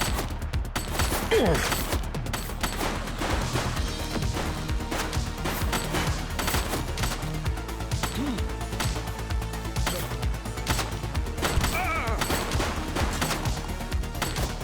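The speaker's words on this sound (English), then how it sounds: "Shots fired!" Gunshots in the police video game The Precinct, rapid cracks scattered through a dense mix of music and game effects, steady and fairly loud throughout, with little clear separation between shots.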